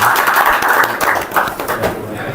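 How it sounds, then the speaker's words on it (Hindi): An audience at a training session gathering claps steadily, a dense patter of applause from many hands sounding close and loud over its whole length. "भरपूर तालियों में।"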